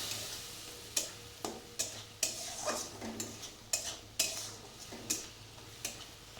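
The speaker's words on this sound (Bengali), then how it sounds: "একটু জল দিয়ে ভালো করে কষাতে থাকবো মশলাটা।" Masala paste being stirred and fried with a splash of water in a pan for a water lily and egg curry, with a spatula scraping and clinking in repeated strokes over a soft sizzle, fairly close.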